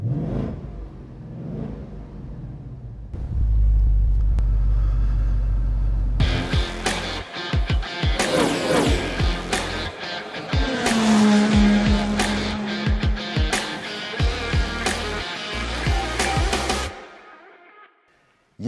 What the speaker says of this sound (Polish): naszym studiu nagraniowym, którym jest Mustang Cabrio z silnikiem V8